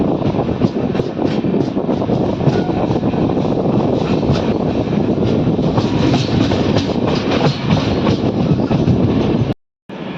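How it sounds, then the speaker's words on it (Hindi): Riding aboard the Matsyagandha Express as it enters Honavar railway station on the Konkan Railway, a loud, steady rumble of wheels and carriage noise with faint clatter runs throughout, cut by a brief dropout near the end. "जैसे अभी हम एंटर कर रहे हैं होनावर रेलवे स्टेशन में।"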